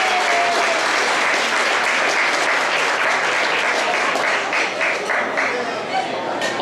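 Audience applause fills a room at a club's 75th jubilee dinner, dense continuous clapping from many hands at a steady level, with faint chatter mixed in and tapering slightly near the end.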